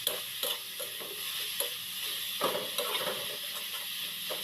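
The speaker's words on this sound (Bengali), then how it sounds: "এবার ভালো করে সব মশলা পেঁপে সব কিছু একসঙ্গে ভালোভাবে মিশিয়ে নিলাম" Grated carrot and papaya stirred with fried onion and spices in a pan: a soft continuous sizzle under repeated scraping strokes of a spoon, moderately close and fairly quiet, with no talk.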